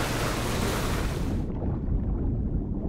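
Player character plunging into water in PUBG: a loud, dense wash of broadband splash and churning water that cuts off halfway to a muffled, low underwater rumble, steady throughout with no talk.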